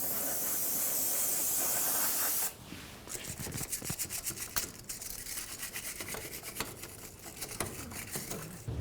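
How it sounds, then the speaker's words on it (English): A small brush scrubs and parts cleaner sprays around a transmission pan on a 2010-2013 Ford Transit Connect, a loud steady hiss of spray at first, then close rapid scrubbing strokes with scattered scraping. "Use a little brush and some parts cleaner,"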